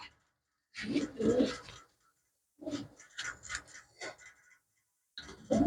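Handled pigeons give faint, low cooing in a few separate bursts with quiet gaps between, close by and gentle.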